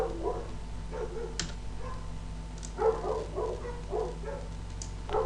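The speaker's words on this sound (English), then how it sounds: "we'll ignore the dogs barking in the background" Several dogs bark in short bursts in the background, fairly distant, over a steady low hum in an indoor room.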